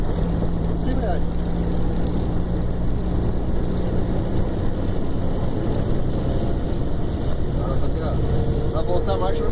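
A Mercedes-Benz LS1935 truck engine drones steadily from inside the cab, with revs rising and falling as gears are changed without the clutch, under continuous talking.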